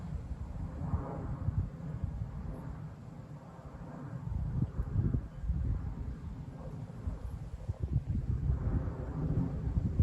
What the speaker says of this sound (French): c'est quelques orages de traîne